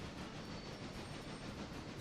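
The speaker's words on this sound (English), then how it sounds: "passenger train is cruising" A passenger train cruises along the rails at about 28 miles per hour in the Railroader video game, giving a steady, dense rolling rumble with no breaks and no speech.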